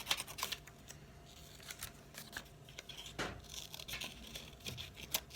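Scissors snip through paper while dinosaur legs are cut out for a children's classroom craft, a quiet series of short, irregular crisp cuts and rustles close by.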